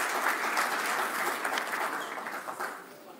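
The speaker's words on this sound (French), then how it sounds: "sous vos applaudissements" Audience applause at a conference on sustainable building, moderately distant crowd clapping that holds steady, then tapers slightly toward the end.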